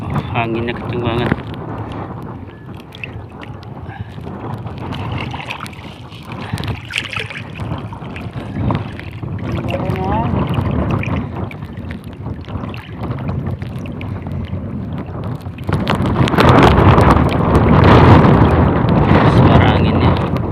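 Strong wind roars and buffets a microphone on a fishing boat at sea, with continuous rumbling gusts and water noise that swell louder toward the end. Someone talks intermittently over it.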